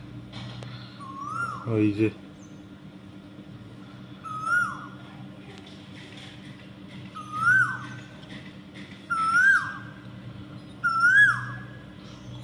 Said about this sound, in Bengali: আর সেই পরিচিত কোকিলের ডাক